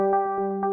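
FM synthesizer tone with continuous phase modulation, a steady harmonic drone with a rhythmic wobbling pulse repeating several times a second, clean and moderately quiet with nothing else present.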